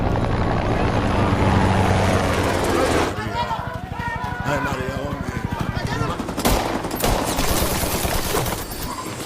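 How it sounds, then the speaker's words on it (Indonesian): A helicopter's heavy rotor thumps continuously while bursts of rapid gunfire crackle over it, loud and close, with a voice speaking under the din. "Hingga tibalah sebuah helikopter dan pertempuran pun terjadi."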